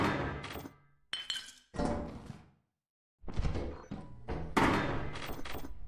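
Glass bottles clanking and clinking in Lethal Company, sharp jangling bursts separated by a short silence, loud and close with no talk.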